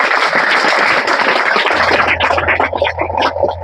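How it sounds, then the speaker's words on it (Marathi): Loud applause from an audience at a school farewell ceremony for tenth-grade students, honouring a teacher, with dense clapping that thins slightly near the end while a low hum runs underneath. "आदरणीय अनंतजी ढोले सर, त्यांच्यासाठी जोरात टाळ्या वाजवा"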